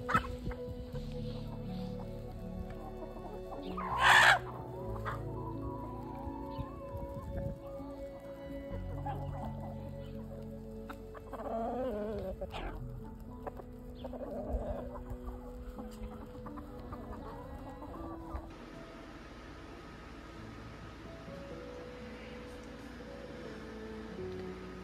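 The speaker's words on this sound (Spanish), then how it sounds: "Hace tantos días que no había sacado las gallinas, por lo menos así se siente, pero ya las saqué hoy." Backyard hens let out in spring or summer cluck intermittently over a steady low rural background, with one louder call around four seconds in and quieter scattered clucks afterward.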